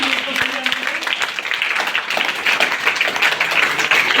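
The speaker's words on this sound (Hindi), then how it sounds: "एक बार जोरदार तालियां हो जाएं" A school audience at an International Moon Day educational event applauds loudly, a steady dense patter of many hands sustained throughout, with voices talking over it.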